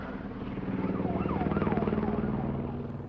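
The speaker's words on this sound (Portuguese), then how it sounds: "Helicópteros da polícia sobrevoaram a cidade de Los Angeles para alertar a população com sirenes." A police helicopter's wailing siren rises and falls in repeated sweeps over a steady low rotor rumble above Los Angeles, fairly loud and continuous throughout.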